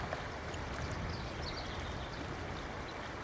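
A huge, deep river flowing, a steady broad rushing wash of water, fairly faint and continuous with no talk.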